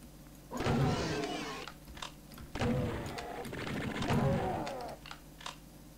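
The Spider Mastermind from Doom 2 in a KINDa map, with repeated mechanical whirring and grinding bursts that sound like its walking machinery, three loud swells separated by short pauses.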